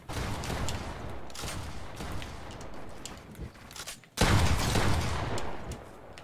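Fortnite gunfire crackles in dense bursts, with a sharp cut to silence partway through before louder shots return, all close and busy, with no talking.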